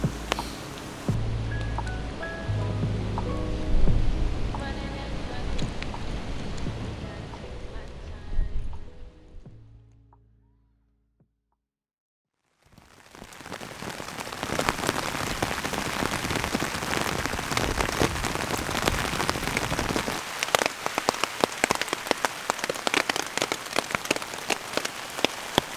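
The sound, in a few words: rain falling at bushcraft camp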